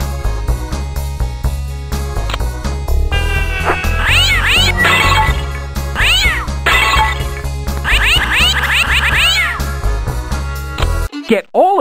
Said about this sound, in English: put all five cats between the pipes.